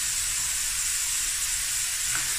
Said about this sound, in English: she's braising the onion